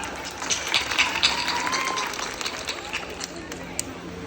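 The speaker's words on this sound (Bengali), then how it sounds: "তোমাদের জন্য এক একরাম তালি" An audience applauding at a freshers' welcome event, with dense, sustained clapping mixed with crowd noise and voices.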